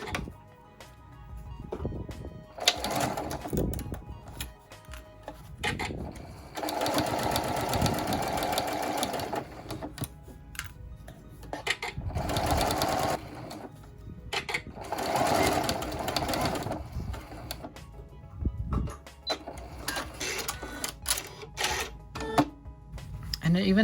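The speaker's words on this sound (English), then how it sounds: "now we're going to sew a 1/4 inch seam allowance along this edge. And we're going to use a standard straight stitch for this seam." A sewing machine runs a standard straight stitch along a quarter-inch seam allowance for a French seam, in several sustained whirring bursts separated by brief pauses, with a person talking over parts of it.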